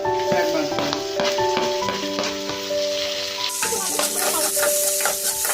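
Poha and tomato fry in a pan for avalakki chitranna, a loud, constant sizzle broken by stirring scrapes, with steady tones sounding in the background.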